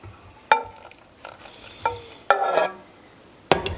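A whisk strikes a metal pan or bowl while hollandaise sauce is beaten, giving sharp separate clinks spread across a few seconds, one brief burst of rapid scraping in the middle, and quiet gaps between.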